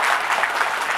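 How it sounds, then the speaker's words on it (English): An audience claps for the panelists at a data summit panel discussion, a dense steady round of applause filling the room for about a second. "please join me in giving these panelists a huge round of applause"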